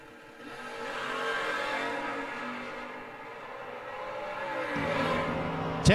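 A red and white Dodge 440 at an old-time drag strip event roars steadily through a sustained engine run, loud and close, with a sharper rise near the end as another launch begins.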